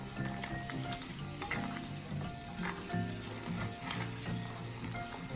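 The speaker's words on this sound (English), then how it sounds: "I'm just stirring the water into the caramel sauce until everything is nice and well diluted and blended together." Caramel sauce bubbling and sizzling in a pan as water is stirred in, with a steady hiss and soft scraping strokes of a spoon running throughout, fairly close and even in level.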